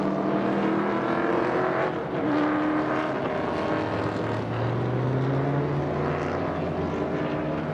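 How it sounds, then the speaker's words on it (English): A Dodge Viper race car's engine roars during a race, a loud sustained drone with pitch shifting as it accelerates, blended with other cars' engines nearby. "Dodge Viper making a move."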